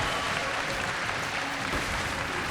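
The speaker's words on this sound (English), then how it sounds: "Can I get a huge round of applause for" Audience at MCM Comic Con London applauding a guest, a steady dense wash of clapping that holds evenly from start to finish with no voices over it.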